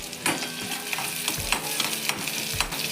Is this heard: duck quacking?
no